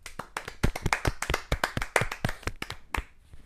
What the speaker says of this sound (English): First, actually, I need to give it a round of applause.